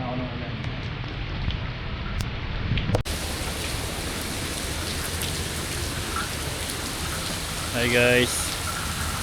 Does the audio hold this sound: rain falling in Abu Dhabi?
yes